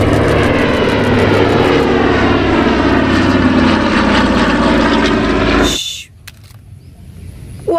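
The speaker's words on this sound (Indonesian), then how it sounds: "Wadidaw, lihat, ada pesawat militer. Ini juga dengan dua baling-baling." Military twin-propeller airplane flying past, a loud steady engine drone with beating propeller harmonics that cuts off abruptly near the end, leaving faint background noise and a couple of brief clicks.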